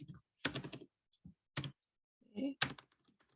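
Keys clatter on a computer keyboard as code values are typed in short, separate bursts of quick clicks with quiet gaps between them, close and fairly soft.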